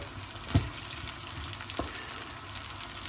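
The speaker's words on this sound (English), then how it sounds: "And we'll put the onions back in. So giving this a good stir." Onions are stirred back into a meat and tomato sauce frying in a pan for lasagna, a faint low sizzle with a sharp knock of the spoon near the start and softer scrapes afterward.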